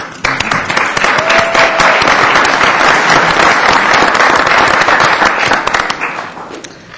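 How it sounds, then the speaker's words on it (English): Sustained applause from an audience at a 2015 city election forum, greeting city council candidates as they take their seats on the dais; dense, steady clapping for about seven seconds that fades slightly at the end. "Now let's welcome all of our city council candidates to the dais and welcome them with applause."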